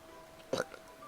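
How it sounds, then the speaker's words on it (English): A single short burp from a person, a brief voiced belch standing out against a quiet room background, followed by a faint trailing sound. "Sorry, I burped."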